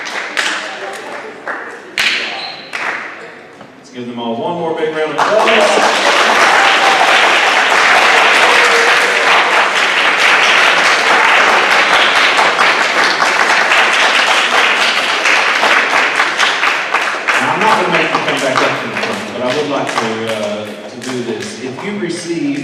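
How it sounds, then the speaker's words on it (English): A few scattered claps build into a loud, sustained wave of applause from the audience at a high school academic awards ceremony, then ease off as a voice begins talking near the end. "Let's give them all one more big round of applause."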